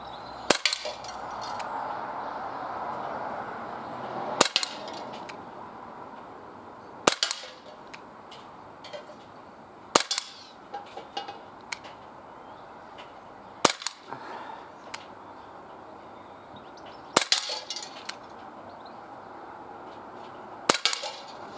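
Glock 17 pistol shots fired at a target on a range, about seven sharp, loud single reports spaced several seconds apart, with faint clinks and handling noises between them and no talking.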